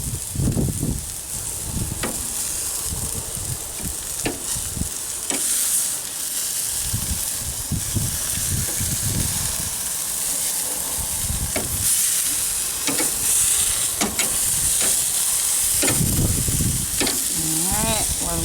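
Pork for tacos fries in a hot pan, giving a steady, close, loud sizzle with crackle and hiss that runs through the whole clip, with occasional stirring and utensil clatter.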